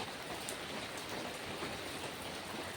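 Steady rain falling outdoors at a home garden where potatoes are grown in grow bags, a constant even hiss of drops on surfaces with no pauses and no voices.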